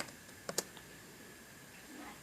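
A few quiet keystrokes on a computer keyboard give two or three soft clicks close together near the start, then faint room quiet.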